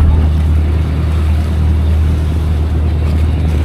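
A fishing boat engine drones steadily under rushing wind and water off Palawan, a constant low hum with no talking.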